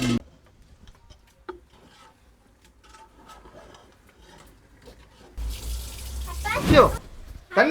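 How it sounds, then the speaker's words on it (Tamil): Running water splashes over dishes being washed in a family kitchen in Dubai. After quiet rustling and faint talk, a loud, gushing burst of tap water rises for a couple of seconds and then fades. "பாத்திரம் கழுவுது."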